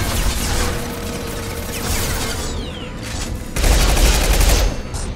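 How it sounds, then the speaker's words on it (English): Machine gun fire in Mass Effect 2 Legendary Edition rattles in rapid dense bursts, with a louder heavier stretch of fire partway through under game effects. "Ooh, like machine gun, kind of."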